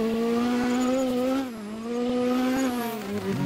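A Ford RS200 rally car in a Roblox racing game, its engine tone droning steadily and loudly throughout, with a brief dip in pitch midway before climbing again.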